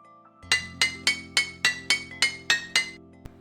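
A tool strikes rock repeatedly in a Unity recreation of the Fossil Fighters video game, giving nine bright, glassy clinks at an even, quick rhythm, close and loud, with a faint final tap.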